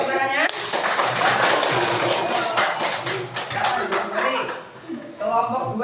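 Classroom applause for group 1 after their discussion, a burst of dense clapping from students lasting several seconds, with voices and a chuckle around it.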